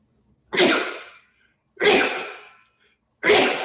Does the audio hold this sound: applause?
no